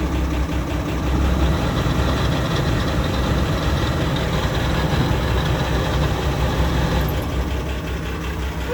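A new tractor's cab AC blower motor runs with a constant, steady hum and engine-like drone, loud and unchanging from start to finish.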